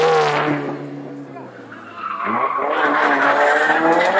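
A rally car in a mountain race roars loudly past at speed, its engine note sliding down in pitch, then climbing again as it accelerates away with a tire squeal.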